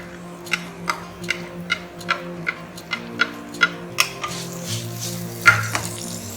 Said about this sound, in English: Now in goes sliced onion,